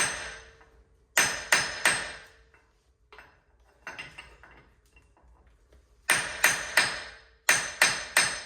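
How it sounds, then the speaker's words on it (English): Sharp metallic strikes from a ball peen hammer driving a brass punch against stuck cone washers on a Land Cruiser 100 Series hub, arriving in quick bursts of three or four close, loud blows separated by quieter pauses. "I'm using a brass punch with my ball peen hammer and just try and jerk these free."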